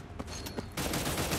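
Dense, continuous gunfire from the futuristic battle royale game Cyber Hunter, played in Stronghold mode: a few separated shots, then a sustained loud burst of rapid automatic fire, with no speech.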